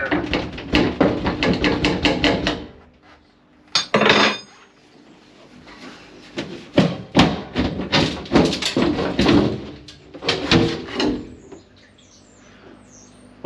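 A heavy, fuel-filled boat fuel tank is worked free by hand, with bursts of metallic clanks, knocks and scraping thumps coming in uneven clusters separated by brief quiet gaps.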